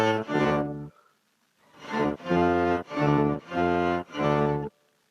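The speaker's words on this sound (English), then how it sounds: "I put the original signal through an octapedal and then that signal through another octapedal" A signal runs through two chained octave pedals, mixing the dry tone with one- and two-octave-down copies, giving deep, thick sustained notes: one long held note, a short gap, then four even, loud notes in steady rhythm.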